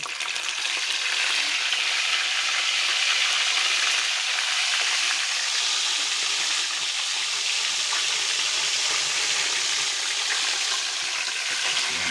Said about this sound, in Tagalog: magpiprito na tayo ng tilapia